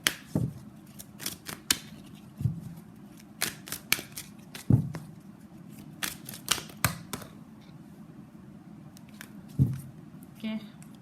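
Tarot deck shuffled and cards pulled, crisp papery snaps and flicks coming in irregular bursts close up, with a soft low voice murmuring quietly between them.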